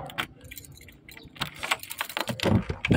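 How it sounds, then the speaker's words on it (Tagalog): Metal keys jangle and clink close by in a series of bright, irregular rattles, handled while unboxing a rifle scope. "Susi."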